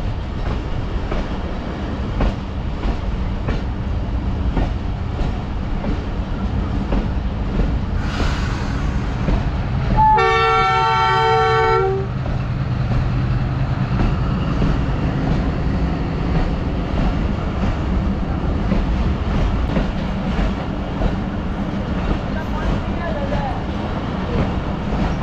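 The Hazara Express, a Pakistani passenger train, passes on the down line near Bakrala and Taxila Cantt with a steady loud rumble of wheels and cars throughout, a bright horn-like tonal burst briefly rising in the middle, with people talking nearby.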